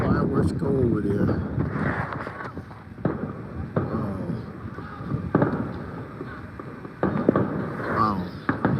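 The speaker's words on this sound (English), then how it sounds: "They're really letting the fireworks go over there." Sharp Fourth of July fireworks pops and bangs crack at irregular intervals in the distance, some in quick bursts, over steady wind noise and low background chatter.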